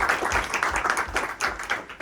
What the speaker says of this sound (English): I always like it when the claps are at the beginning